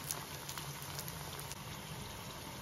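Salted fish fries in a pan over medium or low flame, a steady, fairly quiet bubbling crackle of hot oil that continues evenly throughout with no voices.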